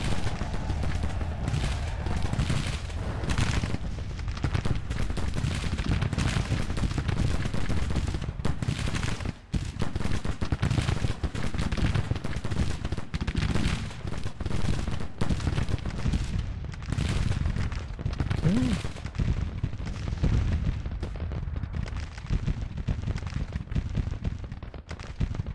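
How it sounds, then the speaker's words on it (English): Civil War troops fire in the strategy game Grand Tactician. Dense, continuous crackling musket volleys and rolling gunfire sound steadily and loudly for the whole stretch, with distant booms mixed in and no talking. "My troops are firing."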